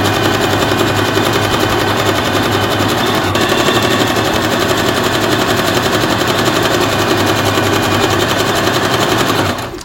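Brother JA20 sewing machine running continuously and loud at close range, a rapid steady stitching chatter while sewing a picot edge on cloth, stopping at the very end.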